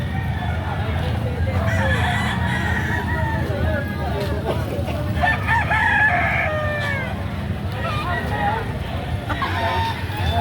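Roosters crow repeatedly at a busy chicken market in Batangas where a full-grown stag rooster is up for sale, with clucking fowl and a steady babble of people talking around them.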